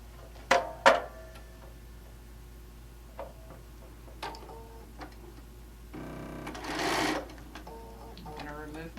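A sewing machine set to a long stitch sews a quilt panel in short bursts of quick mechanical ticking, with brief pauses and a longer run toward the end. Quiet thumps from handling can be heard between the bursts.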